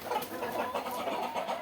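Tiger breed chickens clucking on a farm, a continuous busy chorus of overlapping clucks at moderate distance, with no voices over them.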